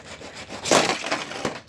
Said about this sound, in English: Oh, hard wreck for Kyle Busch right there.